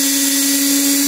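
Power drill boring a small hole into a model hay cart for Breyer Stablemates horses, a steady loud high whine with a constant pitch held throughout, close up and alone without talk.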